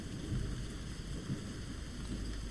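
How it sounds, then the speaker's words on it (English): Super loud thunder sound effect rumbles heavily beneath a constant hiss of rain, a sustained stormy roar with no voices. "Super loud thunder."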